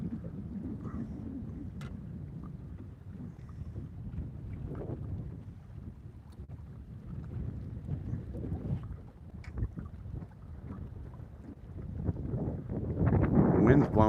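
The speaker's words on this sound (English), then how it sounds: "The wind's blowing so hard it's actually blowing like mist off of the lake at me." Strong wind gusting over Lake Morena, a low rumbling buffet against the microphone that swells and eases throughout, with soft water and boat noises and a louder gust building at the end.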